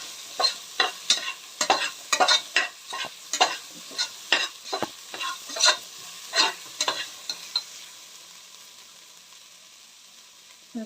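Ingredients for sambar being fried and stirred in hot oil: a quick series of scraping, sizzling stirs about every half second, close and fairly loud, fading to a quiet hiss for the last few seconds.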